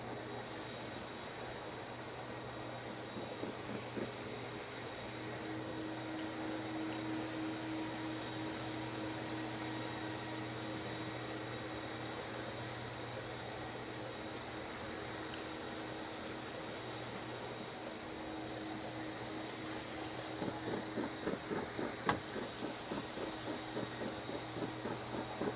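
A concrete floor polishing machine runs steadily on a self-leveling concrete overlay, a continuous broadband motor whine and hum at moderate distance, with a few faint rhythmic clicks and knocks near the end.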